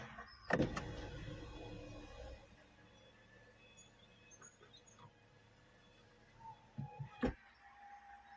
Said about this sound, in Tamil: இப்போ நம்ம அந்த சன்ரூஃபை இந்த ஸ்கை ரூஃபை நம்ம இப்போ க்ளோஸ் பண்ணிடலாம்